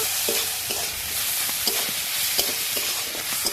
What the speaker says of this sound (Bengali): কাঁচা লঙ্কা চিরা, কাজু বাদাম, এগুলো একটু ভালো করে একটু ভেজে ভেজে নেব